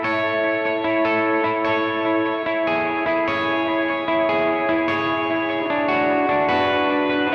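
Loud, hard-picked electric guitar notes ringing into thick delay and reverb, repeats piling up into a dense, smeared wash.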